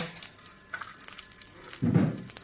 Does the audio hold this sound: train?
no